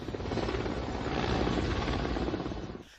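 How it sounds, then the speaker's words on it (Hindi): Army helicopter flying over during a flower-shower salute for fallen soldiers, a steady loud rotor roar that swells slightly mid-clip and then cuts off abruptly. "सेना हेलीकॉप्टर से पुष्प वर्षा सलामी दी गई"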